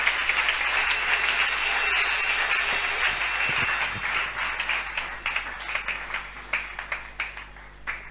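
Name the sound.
church congregation applauding and cheering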